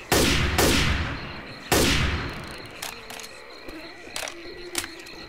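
Gunfire in the Left 4 Dead 2 zombie game: several loud, sharp shots in quick succession at the start, followed by fainter scattered shots and game noise.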